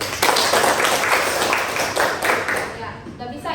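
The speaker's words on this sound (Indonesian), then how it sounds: "tepuk tangan dulu." A university class claps together during a lesson, producing brisk, fairly close hand clapping that continues for a few seconds before fading.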